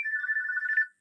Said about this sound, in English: Just mute the phone a sec.